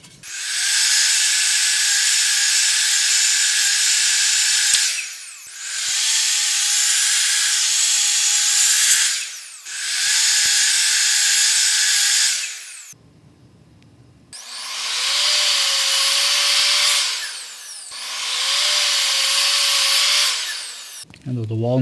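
An Evolution R255 SMS+ miter saw whines loudly through thick walnut in five repeated cuts, each a sustained high motor roar that ramps up and spins down, with brief quieter gaps between.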